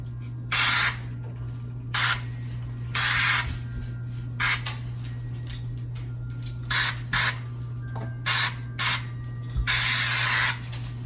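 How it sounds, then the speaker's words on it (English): Repeated short hissing bursts of aerosol vegetable oil spray into cake pans, about ten quick sprays of varying length, close up over a steady low electrical hum. "We're going to spray the inside of the pans and then lightly flour them."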